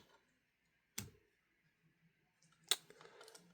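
A plastic part of a Transformers One Quintesson High Commander toy clicks into place: two short, sharp plastic clicks about two seconds apart, close up in a quiet room.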